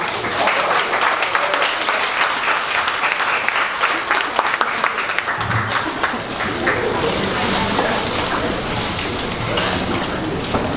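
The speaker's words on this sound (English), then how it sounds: "So can everybody please stand up and give Tempgn a big round of applause." Standing audience gives a sustained, dense round of applause at a startup pitch event, steady and loud throughout with some voices mixed in.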